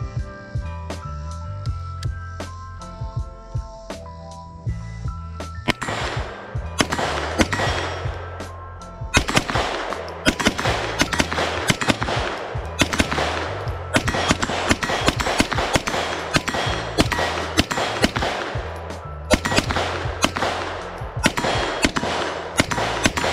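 A Grand Power Stribog A3 is fired at a 25-yard range, giving a long run of sharp, loud shots in quick irregular bursts, each with a ringing tail over a low background hum.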